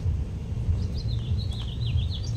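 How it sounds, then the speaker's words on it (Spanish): Small birds sing in a park in Tijuana, a faint high warbling trill running above a low steady rumble of background noise, with no one talking. "Oye, los pajaritos qué bonito cantan."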